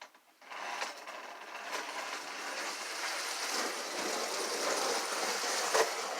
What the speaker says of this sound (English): This little engine really runs